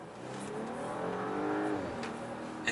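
A 2018 Audi A8 55 TFSI accelerates at full throttle, its engine note rising steadily in pitch and loudness as it pulls, then easing off near the end with a brief sharp knock.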